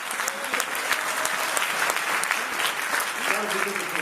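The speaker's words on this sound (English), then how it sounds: "Give them applause." Audience applause at a regional NYC event, a dense, fairly loud patter of many hands with a few voices briefly calling out underneath.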